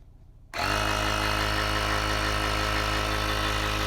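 A portable car tire air compressor switches on after half a second of quiet, then runs with a loud, steady motor drone and buzzing vibration, close by, with no talking.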